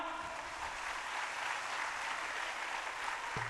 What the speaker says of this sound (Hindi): पूज्य दीदी के लिए एक बार जोर से तालियां